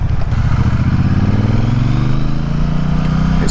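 A Triumph Bonneville Speedmaster motorcycle engine runs loud and close, a deep throbbing exhaust rumble that rises gradually in pitch as the revs climb, steady and uninterrupted.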